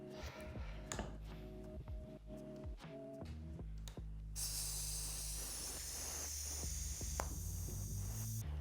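Pressurised nitrogen hissing out of a WP PDS motorcycle rear shock, a steady broadband hiss that starts abruptly after some clanks of tool handling and continues loud and close.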